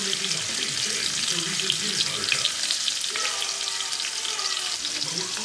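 Meat laid on a hot charcoal grill hisses in a steady, dense sizzle that carries through the whole moment, near and fairly loud.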